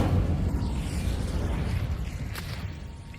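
The Incendio fire spell in Hogwarts Legacy goes off as a loud, roaring whoosh of flame with a deep rumble that slowly eases off, carrying a brief bright crackle near the end.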